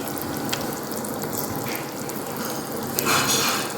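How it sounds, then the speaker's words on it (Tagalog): A pot of tuna sinigang soup boiling steadily, a continuous close hiss with soft popping, slightly louder toward the end. "Kumukulo na siya."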